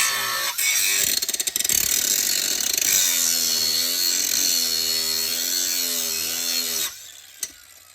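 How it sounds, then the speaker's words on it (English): Power grinder grinding metal parts during a differential swap on a Can-Am Outlander 850 Highlifter with a 900 RZR diff, a loud continuous whine with varying pitch lasting about seven seconds, then cutting off abruptly. "I don't want to grind too much"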